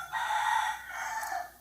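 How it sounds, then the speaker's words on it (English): A rooster in a garden lets out a single drawn-out crow, fairly faint, over a steady background hum. "Rooster, if you can be a little bit quieter"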